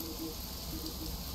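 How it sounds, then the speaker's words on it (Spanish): Steady soft rain in the survival crafting game Atrio, a continuous even hiss with no other sounds over it. "¡Oh! Está lloviendo."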